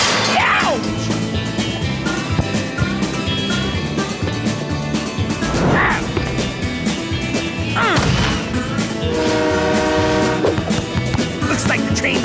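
A train horn blares and a loud crash hits in a Supa Strikas soccer cartoon, the horn sounding as a steady tonal blast near the end amid music, whooshes and impacts throughout, with cartoon voices around.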